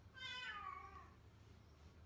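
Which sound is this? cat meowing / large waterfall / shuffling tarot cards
cat meowing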